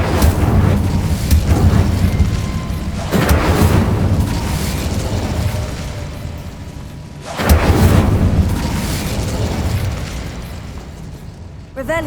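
Incendio fire spell cast in Hogwarts Legacy, a loud roaring whoosh of flame with rumbling bursts that swell, fade and surge again near the middle, dense and continuous.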